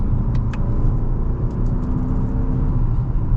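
A 2021 Lexus ES 250 AWD accelerates with a steady, loud low engine rumble and road noise filling the interior, with a couple of faint clicks but no clearly distinct gear shifts.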